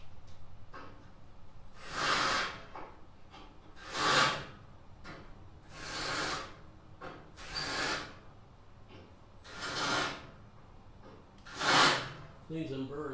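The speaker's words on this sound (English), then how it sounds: "Cleans them burrs right off of there." Deburring the edge of a steel frame rail on a first-generation F-body car, six rhythmic scraping strokes about two seconds apart, close and moderately loud, with a voice talking between them.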